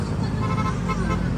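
Car horns honk at a street rally against corruption in the Philippines, a dense, loud blare of overlapping toots and traffic noise packed into a brief burst.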